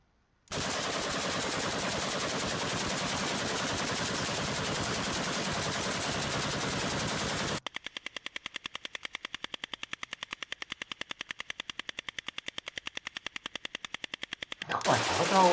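Rapid gunfire aimed at a target: a loud continuous burst for about seven seconds, then a quieter run of evenly spaced, crisp shots in quick succession, ending with a louder noisy swell.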